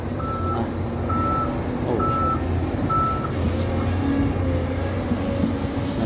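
A LiuGong 936E excavator sounds its reversing alarm, four evenly spaced beeps at a steady rhythm over a loud, continuous diesel engine rumble on an outdoor site, with no talking.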